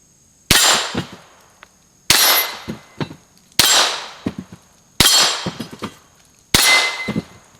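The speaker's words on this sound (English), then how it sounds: "fired all the rounds, hit all the targets" Five sharp shots from a Ruger Mark IV Target .22 pistol fired outdoors at targets, each crack evenly spaced and loud, close by, with a brief clang or ringing after each.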